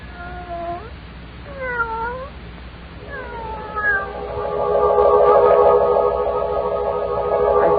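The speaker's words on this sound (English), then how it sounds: "the cat with the yellow eyes watching from the doorway" A cat meows in a radio drama, a few drawn-out, bending cries, then a drone of echoing, distorted music swells beneath and carries on.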